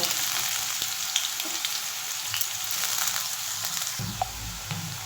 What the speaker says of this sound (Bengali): এই পেঁয়াজটা আমি একটু লালচে করে ভেজে নেব